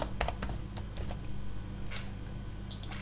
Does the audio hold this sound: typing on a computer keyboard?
yes